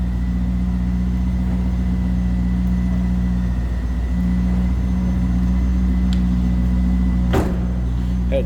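A 1997 Chevrolet Corvette coupe idles after a cold start, a steady low engine rumble with a constant hum running close and loud throughout, and a brief sharp mechanical click near the end.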